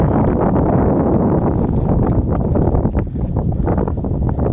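Strong wind buffeting the microphone on a mountain edge at Blevin's Gap, a loud continuous roar with gusty rumbling throughout and no talking.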